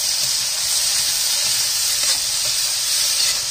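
Chopped tomato, carrot, green onion and peas cooking in a pan, producing a steady, fairly loud hiss and sizzle with no distinct strokes or voices.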